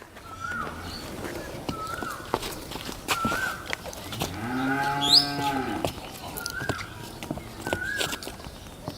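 A Holstein Friesian hybrid heifer calf on a farm gives one long, loud, close moo amid short calls from other cattle and footsteps, with no talking.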